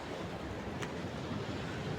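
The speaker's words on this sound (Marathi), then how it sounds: "पाण्याचा लाटा पाण्याचा आवाज बघा." Sea waves at Hedvi beach on the Konkan coast wash in as a continuous broadband roar, with wind noise across the microphone and no speech.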